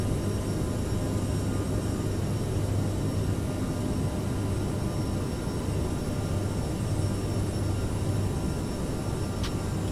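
Aerosoft CRJ700 jet engines at climb power in Microsoft Flight Simulator, a steady, unbroken roar with a low drone and faint high whine, constant in loudness throughout.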